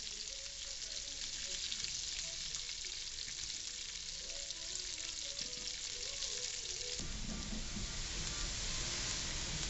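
Onions frying in bacon grease and a tablespoon of butter for liver and onions, a faint continuous sizzle with a low background hum, some muffled sounds beneath, and a brief sharp click partway through.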